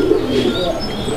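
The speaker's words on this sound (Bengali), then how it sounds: "এটা হচ্ছে বিউটি হোমার কবুতর" A Beauty Homer pigeon cooing at close range, a soft low throaty coo rolling through about a second, with faint background noise.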